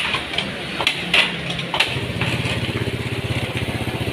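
A problem-prone Yamaha Mio motor scooter, seat removed, idles unthrottled close by, with a steady rapid low putter and a few sharp clicks and knocks over it.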